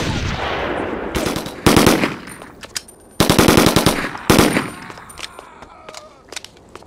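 Loud machine gun bursts from the game 25 To Life, several rapid rattling volleys in quick succession with short gaps between, followed by fading scattered noise.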